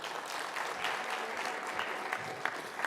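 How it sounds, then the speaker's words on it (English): Warm round of audience applause at a book launch event, many hands clapping steadily at moderate distance, a continuous even patter with scattered sharper claps and no speech. "Let's give them a round of applause."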